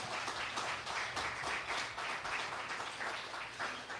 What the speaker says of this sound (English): for those of you who don't know why you're clapping